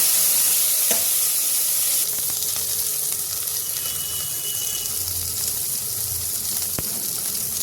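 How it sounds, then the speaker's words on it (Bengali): Washed, cut potatoes fry in a pan with a loud, continuous, close sizzling hiss. It stays steady throughout, with a faint clink or two. "আলু কেটে ধুয়ে রেখেছি, আলুকে একটু ভেজে নেব।"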